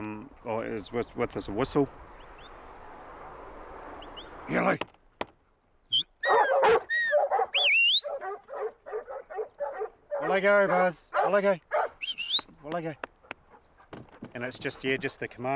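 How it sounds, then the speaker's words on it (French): Several herding dogs in New Zealand bark and yip in quick bursts, some sharp and high, mixed with whimpers, alongside stretches of steady background noise and brief pauses. "Le coup de sifflet leur donne l'ordre d'aboyer, ce qui effraie le bétail."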